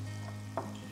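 Garlic fries in oil for shrimp curry, a brief steady sizzle under a low hum with one short clink.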